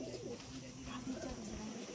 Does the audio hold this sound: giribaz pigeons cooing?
yes